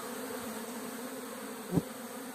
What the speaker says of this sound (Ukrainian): Це вже молоденька бджола, облітується.